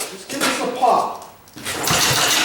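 A Wisconsin engine is cranked over without firing, giving a loud, rough mechanical churning that dips briefly in the middle and then resumes.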